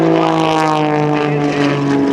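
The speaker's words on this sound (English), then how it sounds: "Watch him roll the airplane to the vertical." A propeller aerobatic plane flown by an airshow pilot at the 2005 NAS Oceana Airshow roars past with a loud, steady buzzing drone of strong engine harmonics, close and unbroken.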